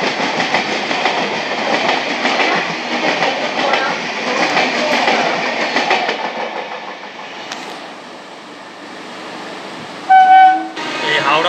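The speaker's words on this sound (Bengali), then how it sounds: "এটা হচ্ছে সরাইঘাট এক্সপ্রেস" The Saraighat Express, running from Howrah to Guwahati, rumbles past on the Howrah–Belur Math route. Its steady rail roar fades out, and a short horn toot sounds near the end.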